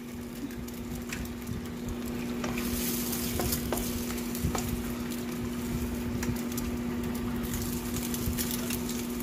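Three eggs frying in a pan with oil while making pad thai, a constant close sizzle with occasional sharp crackles and utensil scrapes over a steady low hum, no talking.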